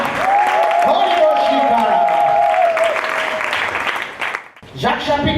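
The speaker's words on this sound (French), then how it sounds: "Est-ce que tu peux donner de l'acclamation ce matin pour ce cri de joie?" A church congregation at a morning service breaks into loud cheering and applause with a sustained voice rising over the crowd, the din dropping off briefly before resuming.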